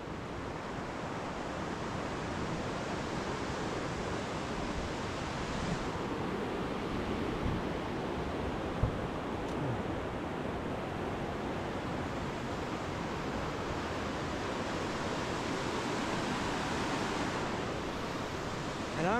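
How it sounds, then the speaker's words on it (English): Bargaman Creek in the Selway area of Idaho rushes steadily along a backcountry hiking trail, a continuous broadband roar of flowing water that stays close and even throughout, with no voices. "This is Bargaman Creek."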